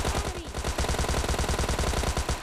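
Rapid automatic fire from a Thompson submachine gun in the mobile battle-royale game PUBG Mobile Lite, a steady, loud burst of evenly spaced shots running through the whole stretch.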